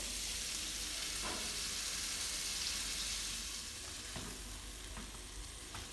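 A splash of water hits carrots stir-frying in a hot pan, producing a loud, continuous sizzle and steam hiss that fades slightly toward the end, with faint scraping of a spatula.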